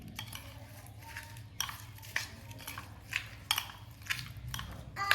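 A spoon stirs a breakfast mixture in a bowl, giving soft scraping swirls and a few clinks against the sides, fairly quiet and close with no talking.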